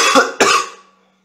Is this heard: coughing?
yes